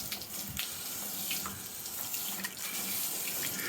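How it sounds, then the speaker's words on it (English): Water sprays from a hose pipe onto a waxed car body in a continuous, splashy hiss, close and fairly loud, with no talking. "Here we get the hose pipe."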